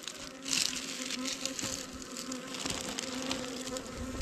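Swarms of honey bees around a large wild hive fill the air with a dense, continuous buzzing drone, close and steady throughout, with no talking.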